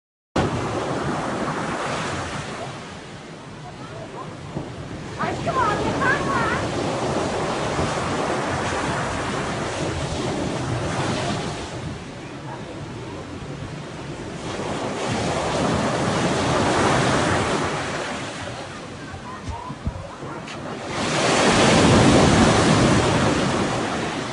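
Rough sea waves break and surge at a beach during a lifeguard rescue, with gusting wind buffeting the microphone. The roar rises and falls in several loud swells.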